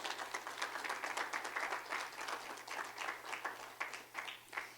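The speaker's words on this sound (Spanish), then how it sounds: "Dele un aplauso al Señor" A church congregation applauds during a Spanish-language Sunday service, with dense, steady clapping from many hands that fills the room for several seconds.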